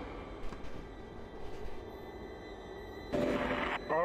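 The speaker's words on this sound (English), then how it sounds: "Tram arriving at flight deck station" A tram pulling into the flight deck station in the Dead Space video game, with a steady low rail rumble and hum building to a louder, brighter burst of screeching and hiss near the end.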